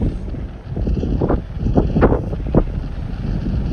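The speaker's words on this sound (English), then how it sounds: "It's so windy" Strong outdoor wind buffeting the microphone at an evening formal event, a continuous heavy rumble with gusty surges throughout and no speech.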